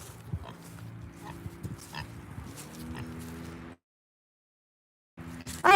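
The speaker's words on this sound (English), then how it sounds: "Pigs get to be outside." Pigs grunt outdoors on a farm on a calm afternoon, with low, rumbling, overlapping grunts that cut out briefly and then start again.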